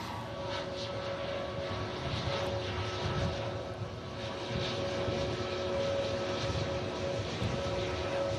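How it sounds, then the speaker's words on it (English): Turkish Airlines A321neo jet at Manchester Airport heading out toward runway 05 left, a steady, fairly distant engine roar and rumble holding throughout with a faint constant whine above it. "Beautiful Turkish A321neo, looking very new and clean."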